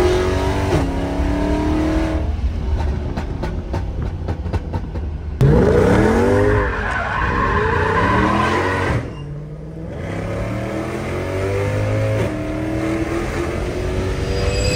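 Mercedes C63 car driving hard, engine revving up and down through gears with loud rising and falling tones, close and continuous, with brief tire noise.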